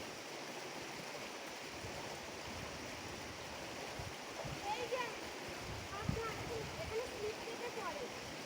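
Strong water current rushes steadily through a deep canyon, a broad continuous wash with occasional splashes, heard from nearby with some faint voices in the background.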